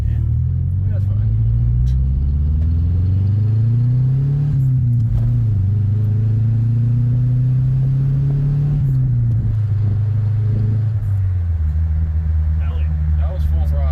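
Cummins diesel engine roaring under full throttle, a loud low droning rumble that climbs, dips and shifts pitch through gear changes, with people talking faintly over it.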